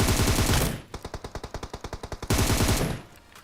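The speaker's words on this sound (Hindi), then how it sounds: "अरे बंदूक है, बंदूक से काम चलाएंगे।" A rapid burst of automatic gunfire in the mobile shooter BGMI, roughly a dozen evenly spaced loud shots in quick rhythm, set between stretches of dense game noise and with no voice over it.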